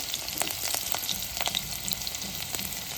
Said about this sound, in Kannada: ಸೊ ಇಲ್ಲಿ ಎಣ್ಣೆ ಕಾಯ್ತದ, ಒಂದು ಸ್ವಲ್ಪ ಉಳ್ಳಾಗಡ್ಡಿ ಹಾಕ್ಯಾರ